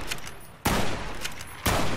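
Gunfire from a sneak shot in Fallout: New Vegas. Two loud, sharp gun blasts about a second apart, each followed by a sustained noisy ring-out, with quieter clicks before the first shot.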